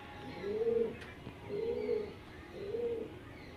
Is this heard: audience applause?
no